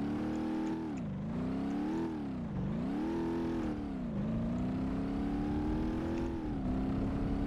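A BMW M3 in BeamNG revving hard while climbing a ramp, its engine note rising and falling through repeated gear changes as a steady, close, sustained drone with no talk.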